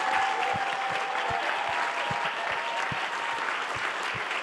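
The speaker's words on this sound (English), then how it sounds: "Could we actually ask all of our contributors to stand for a round of applause?" An audience applauds the contributors to the docuseries 'Gutsy', a steady, full round of clapping that carries evenly throughout, with a few sharper individual claps standing out close by.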